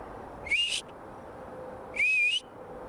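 Two short rising whistles in the woods, each under half a second and separated by a pause of over a second, clear and fairly loud above a quiet, steady background hum.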